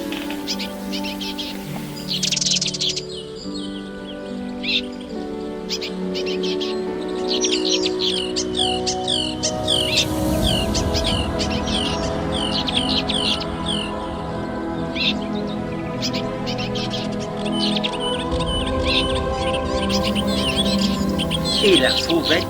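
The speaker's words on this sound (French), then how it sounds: "L'Hippolaïs polyglotte." A melodious warbler sings in the Plaines-Villes natural area at Ploufragan, Côtes d'Armor, a rapid run of bright, scratchy chirps and twittering phrases over a low background hum, with other birds faint in the distance.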